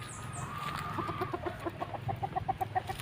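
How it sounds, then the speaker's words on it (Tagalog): Caged roosters and hens at a Filipino poultry farm cluck in a steady run of short, evenly spaced calls, fairly close, with a faint crow early on over a low background hum. "mga manok, lalaki."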